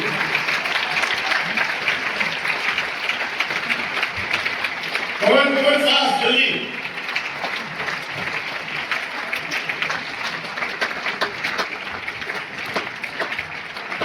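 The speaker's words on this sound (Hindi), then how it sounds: "तालियां आपके ग्लोबल डायमंड्स के लिए, जोरदार तालियां जीडी के लिए।" Steady applause from an audience at an anniversary event, continuous clapping with crowd noise, and someone speaks briefly over it partway through.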